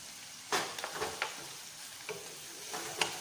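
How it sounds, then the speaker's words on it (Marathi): Sliced onion frying in a pan with a pinch of salt, a steady low sizzle broken by several soft stirring scrapes at irregular intervals, fairly quiet and close. "कांदा लगेच भाजण्यासाठी त्याच्यामध्ये थोडस मीठ टाकूया"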